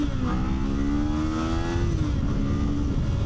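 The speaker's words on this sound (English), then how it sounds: "do I love the sound that the engine makes? No. It essentially just makes noise and goes forward." A Kawasaki Z500 motorcycle's 180-degree parallel-twin engine hums steadily and close, its pitch holding level and then dipping slightly as the bike rides on.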